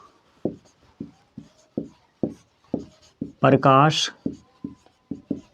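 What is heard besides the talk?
writing on a board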